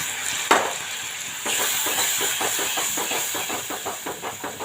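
Water is poured into a pan of spice paste fried in oil, giving a sharp burst followed by a loud, steady sizzle and bubbling hiss with a quick rhythmic stirring or spluttering pulse.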